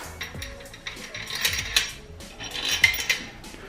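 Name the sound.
placing bolts into engine block during KA24DE rebuild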